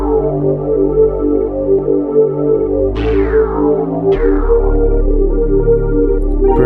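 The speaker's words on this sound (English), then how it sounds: "So after this, I just add this dark bass" Low, dark synth bass notes sustain beneath layered chords, with a couple of bright plucked accents falling in pitch midway; steady and fairly loud, no voices.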